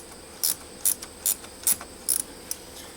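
Five or six quick, close ratchet bursts come at a steady pace as a ratchet works on the coil pack bolts of a 2000 Pontiac Bonneville with a misfire, over a faint background hum.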